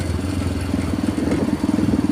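A motorcycle rolls over a short iron bridge on an alternative road in Musi Rawas, its mid-pitched engine running steadily while a rapid clattering rattle rises from the deck plates, close and fairly loud throughout.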